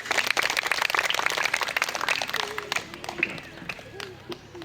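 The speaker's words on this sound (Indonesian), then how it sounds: "kita kasih tepuk tangan sekali lagi" Applause from an audience at a GMIT Masaneda Noanadale church gathering hosting dance, foti and gong-beating contests, a dense burst of many hands clapping that thins toward the end, with voices talking beneath it.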